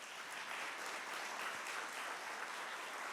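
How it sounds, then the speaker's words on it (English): Steady audience applause at a conference keynote, dense continuous clapping from a crowd with no speech over it, moderately distant and even in loudness throughout. "Please give him a round of applause."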